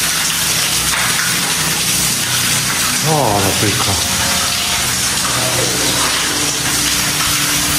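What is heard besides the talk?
water gushing through a crack in an old mine adit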